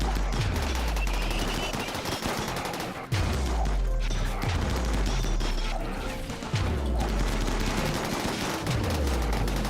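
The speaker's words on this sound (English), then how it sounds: "So these guys are shooting at the turrets instead of shooting our pawns." Turrets and raiders in Rimworld exchange gunfire: rapid bursts of shots patter continuously, punctuated by regular deep booming thumps every couple of seconds, loud and close, with no talk.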